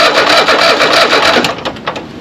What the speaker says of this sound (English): this started so quick I may not even get a good amp count